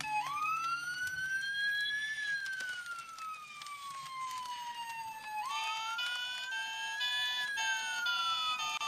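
Fire engine siren in a Fireman Sam cartoon, a loud wailing tone rising and falling in slow sweeps over a busy animated soundtrack, with no talk.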